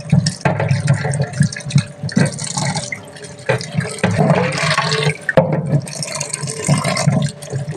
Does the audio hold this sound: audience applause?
no